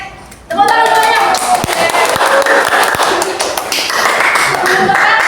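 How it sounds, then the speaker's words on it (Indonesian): A classroom of junior high students clapping hands together after a sharp onset, a loud continuous patter of many claps that holds steady to the end. "Tepuk tangan semuanya"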